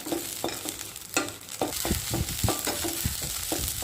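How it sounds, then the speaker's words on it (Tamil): Turkey berries frying in coconut oil, a steady sizzle broken by repeated scraping and stirring knocks of a spatula in the pan, close and continuous with no voices. "இப்போ சுண்டைக்காய் வறுத்துக்கலாம். கொஞ்சம் தேங்காய் எண்ணெய் ஊற்றிருக்கிறேன்."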